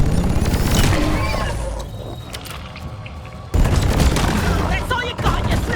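Gunfire and booming blasts in the co-op mining shooter Deep Rock Galactic during a bug wave on hazard 3, dense and loud with a quieter stretch midway before a sudden heavy burst resumes, with player voice lines mixed in.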